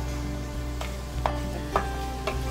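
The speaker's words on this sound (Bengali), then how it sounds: "দেখো ভালোভাবে একটু মেশাচ্ছি খুন্তির সাহায্যে" A spatula stirs mutton and masala in a pan over moderate heat, giving a few soft, evenly spaced scrapes against a steady low background hum, with no talking.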